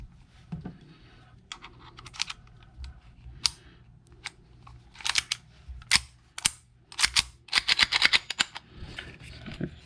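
A 5KU Shadow 2 airsoft pistol fitted with a blowback housing fires a string of sharp, snappy shots, sparse at first and then quicker in the second half, close up with no talking.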